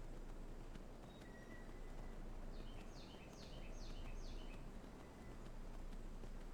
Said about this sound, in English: There's some very noisy birds outside my window today.